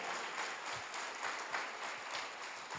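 Steady congregation applause at a church service, faint and distant, a continuous patter of many hands clapping without voices.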